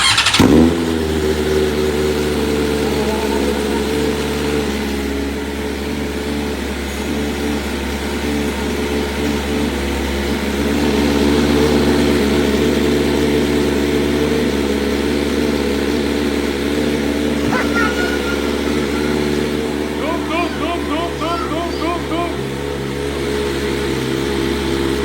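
Motorcycle engine running steadily at idle throughout, a continuous low rumbling drone with slight swells, close and loud, with no talk over it.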